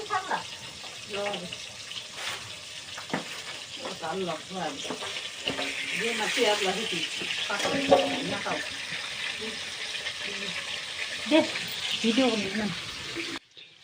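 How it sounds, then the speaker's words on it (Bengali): Fish frying in a pan gives a continuous, fairly quiet sizzle and crackle that runs the whole time, while voices talk over the cooking. "এখানে দেখতেই পাচ্ছ কতগুলো করে মাছ ভাজা হচ্ছে"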